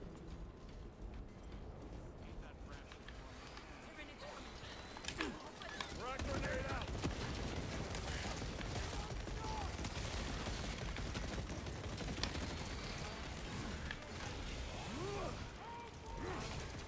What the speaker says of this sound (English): I hear more shooting.